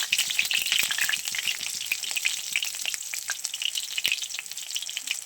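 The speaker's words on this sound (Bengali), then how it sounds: "এখানে কালো জিরে ফোড়ন দিয়ে দিয়েছি। বেগুনটা একটু ভেজে দিই ভালো করে।" Nigella seeds temper and eggplant fries in hot oil in a pan, a steady, close, bright sizzle with crackles throughout and no talking.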